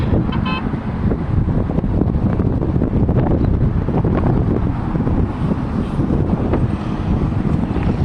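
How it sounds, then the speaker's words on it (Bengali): Wind gusts buffet the microphone in a continuous low rumble outdoors beside a mall and garden, with faint traffic noise mixed in. "বেশ বাতাস আর বাতাসটাও খুব আরামদায়ক"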